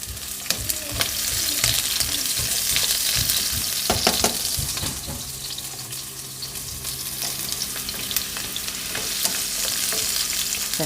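Onions sizzling and frying steadily in a hot pan while tofu and pork are being cooked, with stirring clatter and scraping over a continuous loud hiss, no talk.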